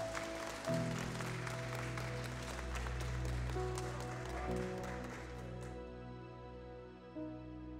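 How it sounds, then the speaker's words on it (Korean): Audience applause at a rap show, a broad wash of clapping and cheering over lingering stage music that carries through most of the stretch before thinning toward the end. "자, 큰 박수 부탁드리겠습니다."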